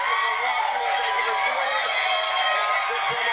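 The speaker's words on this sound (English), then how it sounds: "Stop cheering." A studio audience cheers and whoops continuously at a talk show, a loud, dense crowd roar sustained without a break, with a voice talking over it.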